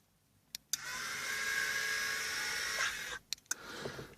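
A heat gun blasts steadily for about two and a half seconds while shrinking heat-shrink wrap on wires during a Mustang cutout install. A few sharp clicks come before and after the rushing hiss.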